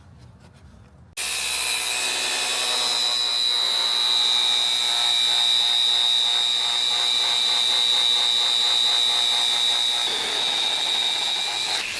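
A sander with 180-grit paper runs against the outer lip of a 24.5-inch aluminum Alcoa truck wheel, a loud sustained whine with a steady high tone that starts abruptly and tapers near the end, with no talking.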